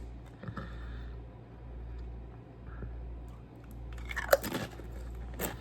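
Tortilla chips dipped in green salsa being eaten: several crunchy bites and chewing sounds, close and fairly quiet, growing louder with sharper crunches toward the end, over a low steady background hum.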